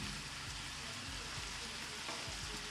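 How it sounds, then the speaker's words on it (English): Minced meat for a Bolognese sizzles and fries steadily in a hot pot, a continuous close crackle with no voices over it. "So all the meat inside, and this is where I leave it to caramelize"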